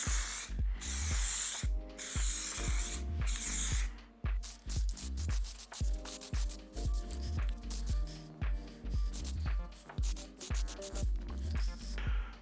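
Aerosol spray paint goes onto an Arai GP6S motorcycle helmet in short repeated bursts, each a close hiss that stops and starts, with faint clicks and handling noises between passes.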